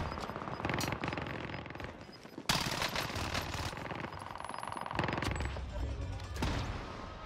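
Rapid bursts from a Fennec submachine gun in the Rebirth Island game mode, loud and close, chattering almost continuously with brief breaks and some heavier blasts mixed in.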